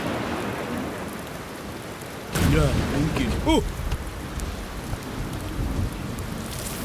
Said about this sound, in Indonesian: Mungkin hujan tidak akan reda sebelum ayam pertama berkokok.